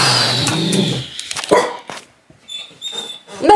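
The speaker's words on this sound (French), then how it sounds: "Tu veux agresser tous les chiens de la planète, Loulou." A dog in a workshop whines in high thin whimpers, then gives a few short sharp yips and barks. The sounds come in bursts with brief pauses between them.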